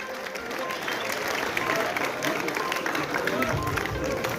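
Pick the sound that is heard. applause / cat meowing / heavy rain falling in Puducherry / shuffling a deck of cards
applause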